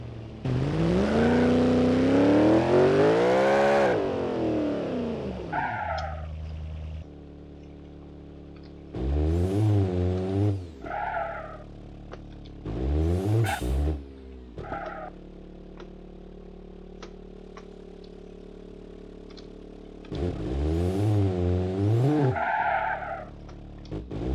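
Engine revving and tires skidding from a car in the BeamNG.drive driving simulator game, several loud bursts of acceleration and screeching slides separated by quieter idle stretches, with no talking.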